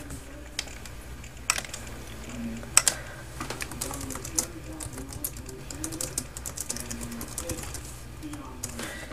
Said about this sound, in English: I can type stuff, you know.